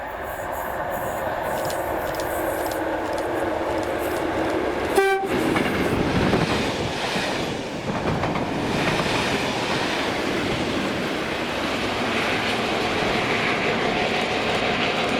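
Colas class 37 diesel locomotive 37025 hauling a rail head treatment train at Prestwick Town on the Ayrshire line, sounding one sharp horn blast over a steady engine roar and rolling wheel noise.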